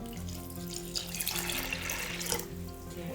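Water from a running tap pours into a cooking pot of dal and spices in a home kitchen, a steady close rushing stream that shifts in tone as it fills.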